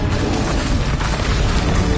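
Expelliarmus spell effect in the Hogwarts Legacy video game, a loud, dense burst of rumbling, crackling energy that fills the whole two seconds without a break.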